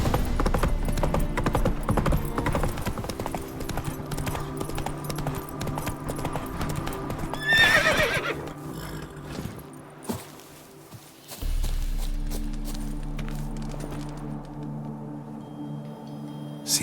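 Hooves clip-clop steadily from a horse in The Witcher 3 video game, with a neigh around the middle. The beat pauses briefly, then a low hum carries on after it.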